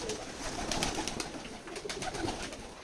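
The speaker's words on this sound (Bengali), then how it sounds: "আমরা আমাদের এই খামারে দেশি বিদেশি সকল ধরনের কবুতর লালন পালন করে থাকি" Domestic and foreign pigeons cooing at a pigeon farm in Keshabpur, Jessore, with a steady chorus of soft coos and wing rustles running continuously at moderate distance.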